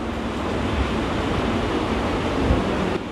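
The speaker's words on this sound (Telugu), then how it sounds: "ఈ మధ్యలో ఫ్యాన్ సౌండ్ అది." An electric fan runs in a classroom, giving a steady, even whoosh of air noise that holds unchanged for a few seconds with no voices.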